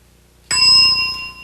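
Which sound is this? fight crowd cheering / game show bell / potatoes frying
game show bell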